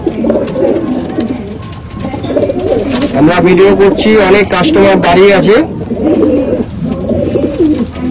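Punjabi Malwai pigeons coo steadily in a loft, low rolling calls running throughout beneath someone talking continuously.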